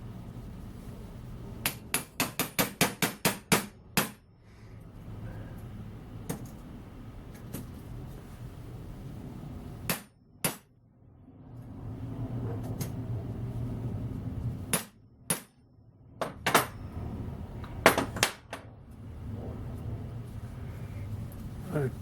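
A hammer gives light, sharp taps to a copper tulip, first as a quick run of about a dozen evenly spaced metallic ticks, then as scattered single and paired taps over a soft background hum.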